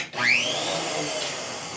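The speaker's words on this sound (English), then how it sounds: "And we're going to come around to our blender." Electric blender whirring through a bourbon apple cider slushie, a sharp motor spin-up followed by a steady loud grinding whine that holds for the rest of the moment.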